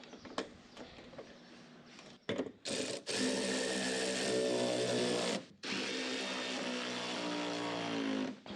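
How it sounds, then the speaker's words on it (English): A power drill bores holes to mount plastic truck fenders, whining loud and close in short starts and then two long steady runs, alone with no talk. "So we're ready to start drilling them."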